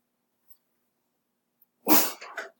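A single sneeze from a person in a quiet classroom during a first-grade math lesson, one sharp burst followed by a brief trailing exhale, fairly close and alone.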